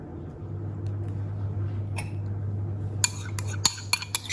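Cold heavy cream being whisked for a Lotus Biscoff dessert box: a steady low mechanical whir runs throughout, with sharp clinks of the whisk against the bowl clustering near the end.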